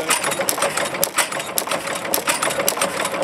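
An antique farm engine from the 1960s at a farm day show, running with a rapid, even mechanical clatter and ticking, loud and close, with no voices over it.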